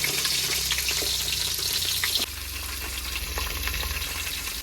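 Mustard seeds and cumin sizzle in hot oil during home cooking, a steady close hiss dotted with small crackles and pops that drops slightly in level partway through, with no voices.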